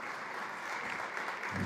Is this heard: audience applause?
yes